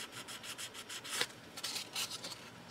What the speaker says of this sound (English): Just going to sand it lightly, and that's going to get rid of the perfect pearls on the raised areas.